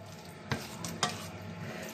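Mongolian chicken is stirred in a hot pan, with a steady sizzle of frying and two sharp scraping clanks of the utensil against the pan, close and clear.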